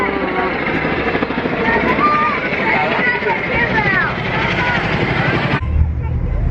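A River Thames tour boat pulls away from its mooring in London, its engine giving a steady broadband rumble beneath crowd chatter and nearby voices, with a brief louder low thump near the end.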